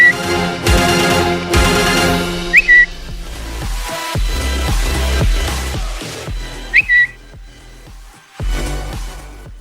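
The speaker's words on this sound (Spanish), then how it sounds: "Ahí está silbando ese pajarito" A small bird whistles in short bright chirps twice, heard under and between background music with strong rhythmic beats.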